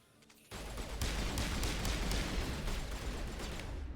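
Gunfire in the Mass Effect Legendary Edition video game bursts in abruptly after a quiet moment, then continues as a dense, loud barrage of overlapping shots and impacts with no talk.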